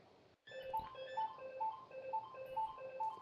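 A telephone rings with a repeating electronic ringtone, short melodic beeps cycling in an even pattern, fairly faint and steady, with no talking over it.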